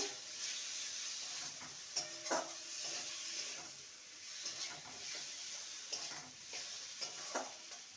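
Potatoes and spices with roasted kasuri methi being stirred in a pan for a vegetarian soya curry, a steady soft sizzle under repeated scraping strokes and light knocks of the spoon, close and moderately quiet.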